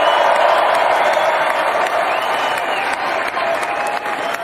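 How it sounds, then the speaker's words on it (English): A large crowd roars with sustained cheering and applause at a live outdoor rally where a president signs executive orders onstage, a dense, loud wash of clapping and shouting throughout. "Do you hear the roar of the crowd?"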